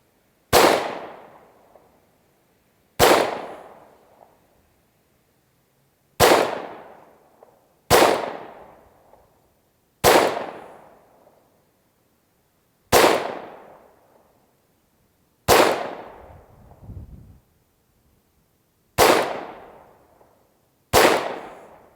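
FN Five-seven pistol fired at an outdoor range: nine sharp, loud single shots spaced a few seconds apart, each with a short decaying echo and near-silence between.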